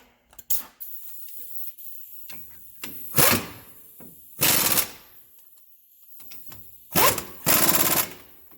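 An impact gun tightens brake caliper bolts on a 2007 GMC Savana 2500 with a 4.8 L engine, firing several short, loud rattling bursts spaced seconds apart, with faint workshop clatter in between.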